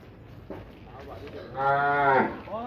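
A Khillar bull lets out a single deep, drawn-out moo that swells loudly and then fades, close by, over soft background noise.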